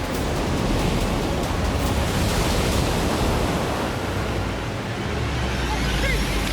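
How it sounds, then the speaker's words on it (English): Ocean surf washes continuously around contestants standing on a beach during a Survivor Australia endurance challenge, a loud, steady hiss of breaking waves and wind with no break. "Waves consistently hitting your feet now"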